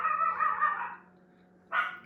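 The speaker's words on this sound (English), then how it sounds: "that puppy's barking" A puppy barking indoors: a drawn-out yelping bark followed by a pause and a second short sharp bark, loud and close, no talk.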